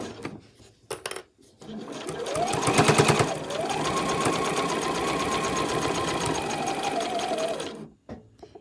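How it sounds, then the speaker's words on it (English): A sewing machine runs a straight stitch with a universal needle, starting with a backstitch: a short burst, then a steady, loud mechanical whir held for several seconds before stopping. "I'm just going to use a straight stitch, a universal needle, and start with the back stitch there."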